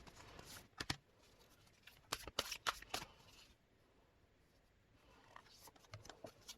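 Tarot cards are shuffled close up in soft bursts of riffling and flicking, with quiet pauses between handfuls and a few more shuffles near the end.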